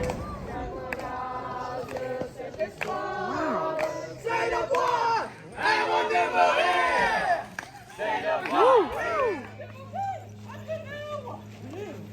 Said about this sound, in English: A large crowd gathered to receive you.